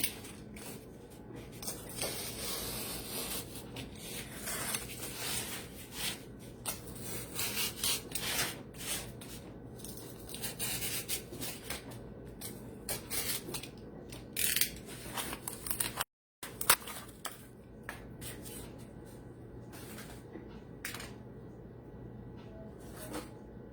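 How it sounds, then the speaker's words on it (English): Scissors snip and rub steadily through cardboard, cutting out an ear shape for a Picasso-inspired cardboard portrait, with close scraping and crunching that runs continuously, pausing only briefly. "now I'm going to cut out this ear shape."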